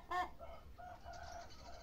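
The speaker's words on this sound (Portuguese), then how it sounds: "Cala a boca, galo." A rooster gives short clucks and a brief crow at fairly close range, heard alone and at moderate volume.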